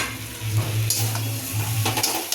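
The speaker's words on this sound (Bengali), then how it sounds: "এগুলো এবার ভালোভাবে কষিয়ে নিই" A spice paste with turmeric, cumin, chilli powder, salt and yogurt fries for aloo dum in a pan, sizzling loudly and closely while being stirred, with a few scrapes near the end.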